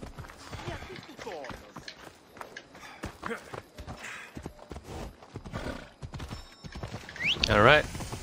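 A horse in a video game, set in Athens, gallops up after being called, with clip-clop hooves and a whinny near the end, heard under a player's ongoing talk and game sounds.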